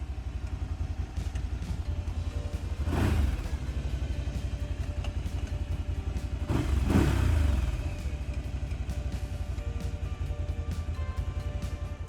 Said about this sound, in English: The sound, I should say, is quite loud. 1000 cc as we remember.